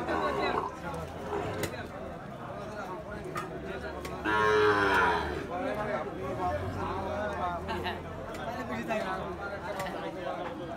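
White Sahiwal-breed calves at a cattle market let out a drawn-out moo that stands out midway over constant crowd chatter and nearby talk.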